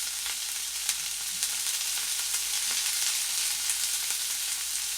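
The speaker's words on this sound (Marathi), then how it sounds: "हे सुद्धा आपल्याला तेलामध्ये छान परतून घ्यायचं आहे." Ginger garlic paste sizzles in hot oil over low heat, a steady bright crackle with small pops and faint stirring scrapes throughout.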